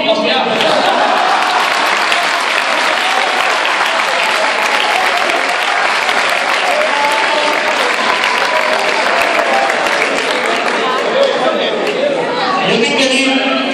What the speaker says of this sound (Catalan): Però aplaudiu, hòstia